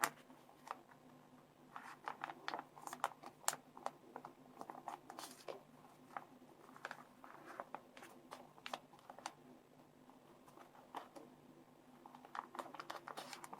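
Paper for an origami hexagonal multipurpose box, cut as 18.7 cm squares, is creased and folded close by, giving faint, irregular crinkles, soft rustles and light taps.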